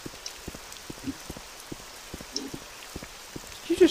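Rain falls in the Morrowind multiplayer game, soft scattered droplet taps patter irregularly over a quiet background, with no voices.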